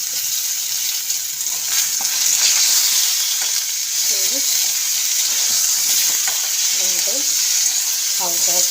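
Spices sizzling in a pan with salt and turmeric while making vegetarian khichuri, a steady bright frying hiss with occasional stirring scrapes and small pops throughout.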